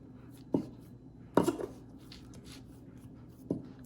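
Knife cutting a rolled log of pie crust dough into six slices, three soft separate thuds on the board, quiet and close, with no talk.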